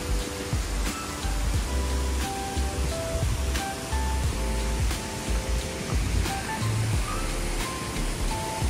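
Monsoon waterfall at Malshej Ghat roaring as a steady broadband rush, with intermittent low rumbles and faint tonal traces throughout, no talk.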